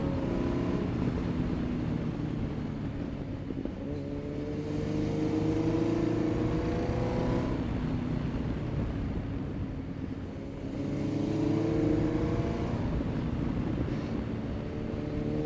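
A Yamaha FZ1 motorcycle riding along the winding US 421 road called The Snake, its engine droning steadily and close, rising and falling in pitch as it changes speed through the bends, with no talk.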